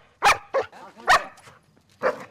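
A dog barks four times in a quick irregular series, the loud close barks separated by short gaps, with no talk over them.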